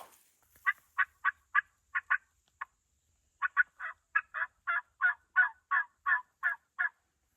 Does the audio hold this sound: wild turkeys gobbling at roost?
yes